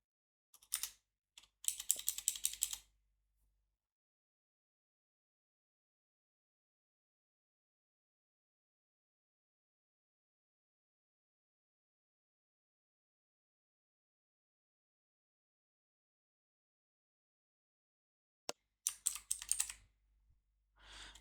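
Typing on a computer keyboard comes as two short bursts of rapid key clicks, one at the start and one near the end, close and clear with long silence between them.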